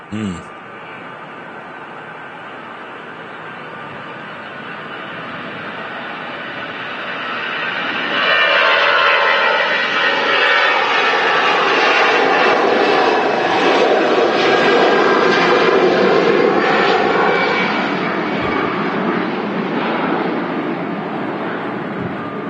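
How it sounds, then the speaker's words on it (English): Jet engines of a Lufthansa airliner build from a distant rumble to a loud, sustained roar with a whining tone as it accelerates on its takeoff roll at Manchester Airport, heard from afar and steady. "Lufthansa rolling. Shouty. A few loud engines today."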